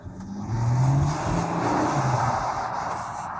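A Porsche Macan on a test drive accelerates hard. Its engine swells from a low rumble into a rising, sustained whirring roar, heard from inside the car, loud and without speech.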